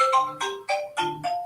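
A phone ringtone plays a repeating melodic electronic chime, several quick bursts in a steady rhythm, clear and close.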